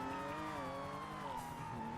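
In the GTA NoPixel video game, a car brakes hard and its tires squeal in a sustained skid over a steady engine drone, fairly faint and continuous.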